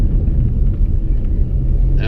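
A Subaru SVX rolls over a large speed bump, a steady, loud low rumble of engine and road noise running throughout, with a brief rattling clatter right at the end.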